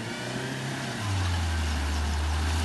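A Mitsubishi Pajero Mini on all-terrain tyres labours through mud, its small engine droning steadily and then rising to a louder, higher strained pitch.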